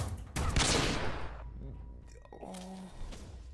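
Gunfire in Red Dead Redemption 2 Online during a quick-draw duel: a loud burst of shots near the start, followed by quieter game sounds and a voice talking.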